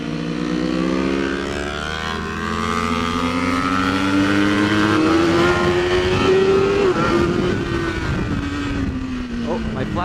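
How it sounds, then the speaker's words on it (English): Big motorcycles tear past on the Mission Raceway track while a smaller bike rides along, giving a loud, continuous engine whine that climbs in pitch, then drops sharply as a bike sweeps by. "It's like me on a little bike and big bikes flying by"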